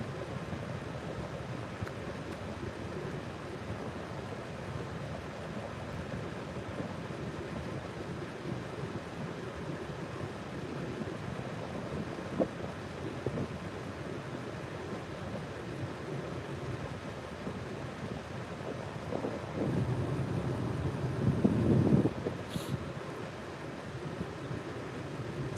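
Wind blows steadily outdoors at a waterside fishing spot, a constant broad rush that gusts harder near the end, with no voices.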